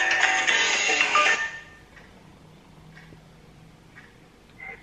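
A phone ringtone for an incoming call chimes brightly and loudly for about a second and a half, then stops abruptly, leaving a quiet room with a few faint clicks.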